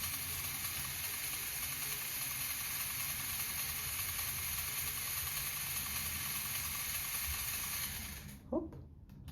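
A battery-powered motor raising the arm of a LEGO Technic model, a steady high whirring hiss held for about eight seconds, then cutting off with a small clack.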